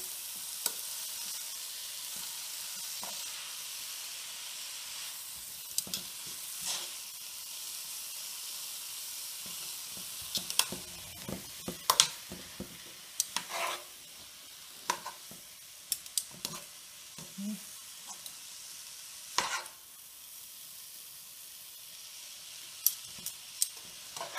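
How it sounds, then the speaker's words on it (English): Tongs gently lifting and flipping cooked spaghetti squash strands in a cooking pot, giving soft scattered clinks and rustles with a few sharper taps over a faint steady hiss. "take your tongs and you could just gently, so you don't scrape your pan, your pot, and just flip them around"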